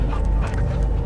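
Cosmo, a dog in the video game Guardians of the Galaxy, panting close and steady, breathy noise with a low rumble underneath, no talk.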